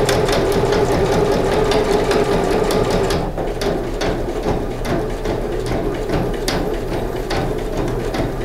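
A sewing machine stitches bias binding onto a fabric medicine pouch, running loud and close with a steady rapid mechanical chatter that eases slightly partway through, then keeps going at an even pace.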